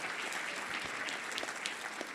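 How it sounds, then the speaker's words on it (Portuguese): An audience of evangelical supporters at a political meeting with Lula claps in a brisk, dense round of applause, loud and continuous with a few sharper individual claps standing out. "Cadê aquela salva de palmas para agradecermos?"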